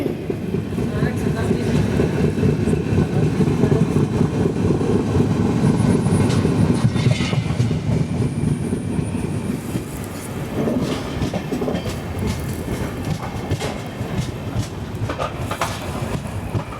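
Inside the 17630 Hazur Sahib Nanded Hadapsar Express passenger train running between Nanded and Pune: a loud steady rumble with rhythmic clickety-clack of wheels over rail joints and occasional faint voices.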